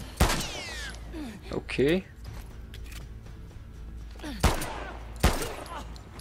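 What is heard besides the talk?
gunfire in The Last of Us Part 2 video game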